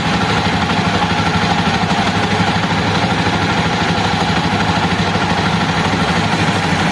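A Jawa motorcycle engine running steadily at around 4,500 rpm, a loud, close, continuous mechanical drone with even vibration and no breaks.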